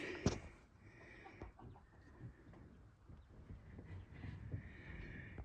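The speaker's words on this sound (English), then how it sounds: "we've got, I think, 9 meat chickens in here" Meat chickens clucking softly in a muddy pen, with low scattered calls and rustling over a steady background hum.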